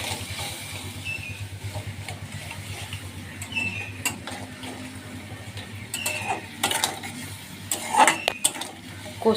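Powdered spices being stirred and sautéed in a pan during Bengali home cooking, with a continuous low sizzle under repeated scraping and clinks of a metal spoon against the pan, growing a little louder near the end.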